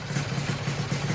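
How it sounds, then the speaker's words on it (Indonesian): A FIZR 125 motorcycle with a custom-built engine idles steadily on its first run, a loud, close, even low chugging pulse with light mechanical clatter and no talk over it. "ini udah hidup motornya"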